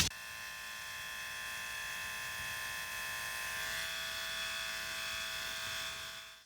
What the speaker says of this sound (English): use the air that comes out of the airbrush while you're not spraying to dry it